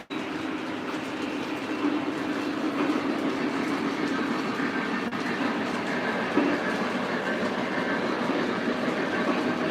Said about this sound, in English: let's get the streetcar running again.